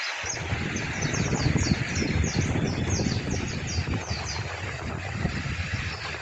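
Small birds call at White Beach in Basco, Batanes, giving repeated high chirps over a steady rumble of surf or wind, with no talk.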